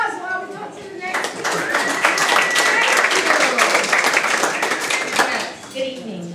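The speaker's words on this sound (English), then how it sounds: "Give some applause while we talk to the next" Audience applause at an urban planning talk, a burst of many hands clapping that swells, holds for several seconds, then fades as voices carry on beneath.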